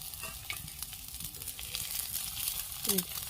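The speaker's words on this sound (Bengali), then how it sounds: "এবারে আমি এই বাটিতে রাখা ডিমটা আমি এর মাঝখানটা ঢেলে দেবো" Beaten egg poured into the middle of cabbage frying in a pan, with a steady close sizzle and stirring clatter, plus a brief louder hiss near the end.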